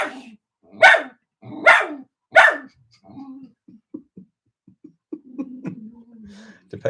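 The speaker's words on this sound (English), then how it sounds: "Depends whether you want to call that a bark or not" A dog gives three loud, sharp barks in quick succession, then quieter low grumbles and growl-like sounds follow, with someone talking softly at times.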